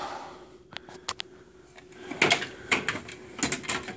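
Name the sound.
tool cabinet drawer being opened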